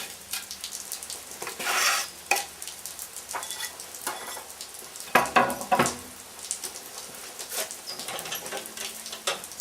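Garlic sizzling in hot award-winning olive oil for an Italian pasta sauce, a crackling, spattering fry with bursts as it is stirred, close and clear with no talking.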